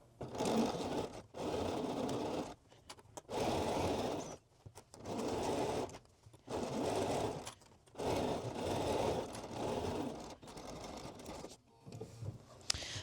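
A sewing machine stitches a hoodie sleeve seam in cashmere-style knit, running in about eight steady bursts of a few seconds each with short stops between, close and fairly quiet.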